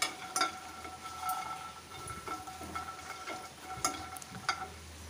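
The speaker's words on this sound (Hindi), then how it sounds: "दूसरी तरफ मेरा खीर भी बन रहा है।" Kheer, rice pudding made with little milk, simmering and being stirred in a pan, a faint continuous bubbling sizzle with soft irregular scrapes and clicks of the spoon.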